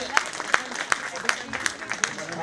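An audience at a Rangmanch Seva Foundation event in Ahmedabad claps in an even, rhythmic beat for a singer, with crisp, regular hand claps over background voices.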